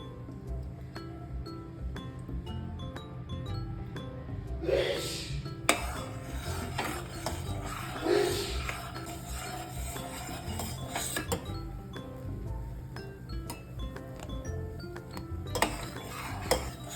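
A spoon clinks and scrapes against a metal pot as full-cream milk is stirred while boiling, with repeated ringing taps and rubbing strokes over a low steady bubbling rumble.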